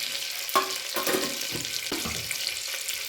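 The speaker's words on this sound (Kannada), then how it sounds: "ಎಣ್ಣೆ ಹಾಕಿದ್ನಲ್ಲ ಸ್ವಲ್ಪ ಸಾಸಿವೆ ಸ್ವಲ್ಪ ಜೀರಿಗೆ" Mustard seeds and cumin frying in hot oil for misal pav, a steady crackling sizzle with a few sharper pops and clinks, close and continuous with no talk.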